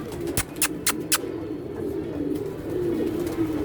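A flying pigeon coos in a low, soft murmur close by, preceded by a few sharp clapping snaps, likely wingbeats.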